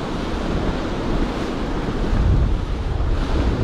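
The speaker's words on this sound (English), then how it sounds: "It's got to be careful of those big rogue waves that come in, they catch you out." Loud, continuous surf of ocean waves and a strong tide on a shoreline while bass fishing with lures, roaring and swelling with heavy wind buffeting the microphone.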